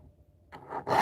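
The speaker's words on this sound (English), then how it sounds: "just using my little file here" A small hand file rasps across a chainsaw chain while sharpening it, giving one or two short scraping strokes that are close and fairly quiet after a moment of near silence.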